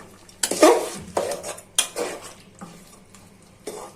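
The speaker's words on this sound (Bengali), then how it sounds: "এখন টমেটোটা নেড়ে চেড়ে" Tomatoes being stirred in a pan for a fish-head tomato curry give a series of close scraping, clattering strokes with a soft sizzle under them, irregularly spaced, with no talking.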